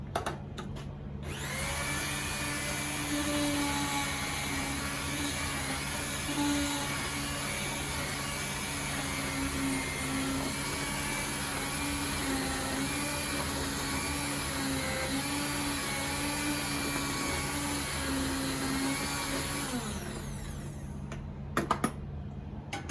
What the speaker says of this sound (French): On va la mixer.